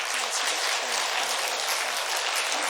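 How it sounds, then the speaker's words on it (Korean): A church congregation applauds in welcome for a newly registered member, a thick, continuous burst of clapping from many people throughout, with faint voices beneath. "우리 사랑으로 환영의 박수 한번 드리도록 하겠습니다"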